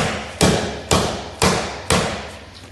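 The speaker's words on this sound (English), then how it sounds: "we're using a rubber blow hammer just to tap it in like that" A rubber mallet strikes an alloy wheel rim protector on a car wheel, pressing it into place: four firm, evenly spaced thuds, each with a short decay, close and loud, with no talking.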